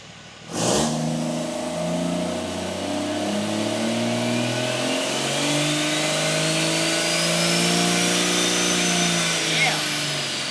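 A Cummins 5.9 diesel with a compound turbo free-revs, starting with a sharp burst and then climbing into a rising engine roar and turbo whine that build steadily and stay loud and close to the end.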